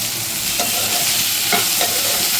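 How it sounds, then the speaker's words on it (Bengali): Soya chunks fry in hot butter in a pan after being turned to the other side, giving a steady close sizzle with soft stirring scrapes and brief clicks, with no talking. "এবার আর এক দিকটা ভেজে নিতে হবে।"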